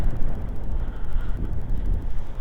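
Strong wind on an expressway buffets the microphone in a low, gusty roar, rising and falling over a couple of seconds.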